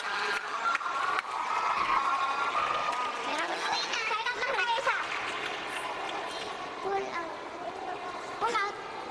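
Volleyball fans and team members on the sidelines cheering during a timeout at a PVL match, a lively mix of shouts, chants and clapping in an indoor arena, with a commentator talking over it.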